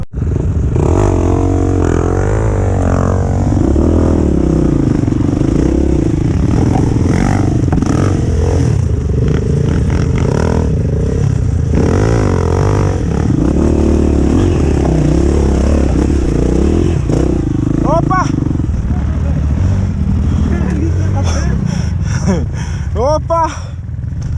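A motorcycle engine runs loud and close on a hard forest trail, its revs rising and falling with clattering and scraping throughout.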